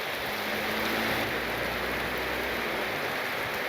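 Steady rain falling in Bali, a dense, even hiss that holds unbroken and fairly close throughout, with no voices over it.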